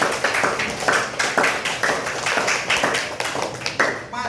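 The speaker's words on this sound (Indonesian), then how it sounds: "Ya, tepuk tangan buat Mbak Putri." A class claps for a student in a classroom, the hands sounding as a loose, rhythmic run of sharp slaps. The group is close and fairly loud and falls away at the end.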